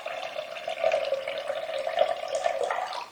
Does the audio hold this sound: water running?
yes